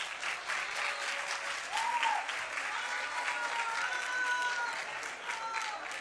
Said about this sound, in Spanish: Un fuerte aplauso para todos los equipos